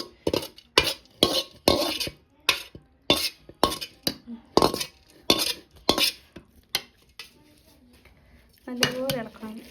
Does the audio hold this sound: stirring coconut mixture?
yes